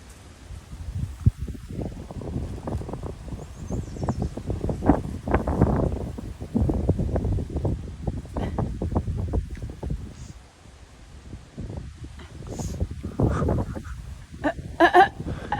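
Strong gusty wind buffets the microphone outdoors in California while a hawk hangs in the air, loud rumbling bursts rising and falling throughout, with a few faint higher sounds near the end.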